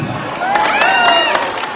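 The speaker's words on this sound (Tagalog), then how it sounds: "at syempre pumalakpak kami mga baby" Children cheer and shout with some clapping at a child abuse awareness gathering, a lively crowd sound with high excited voices rising and falling over a brief, loud burst.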